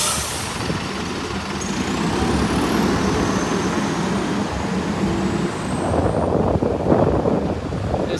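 A bus circling to the front of Lincoln Central Bus Station: a continuous, fairly loud engine rumble with wind buffeting the microphone, swelling slightly as it moves, and a faint high whine gliding upward early on.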